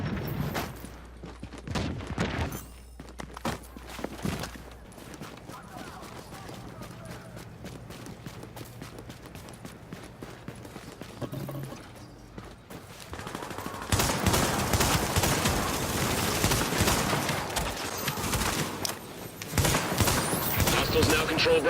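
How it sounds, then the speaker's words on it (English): Rapid gunfire in The Division video game, bursts of shots crackling through the mix, heavier and denser in the second half, with a player talking over it. "Oh my god, that rapid fire."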